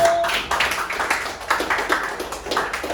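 A class of students claps together in a school English lesson, a dense run of hand claps that fades slightly and then continues steadily over three seconds, recorded nearby in the classroom.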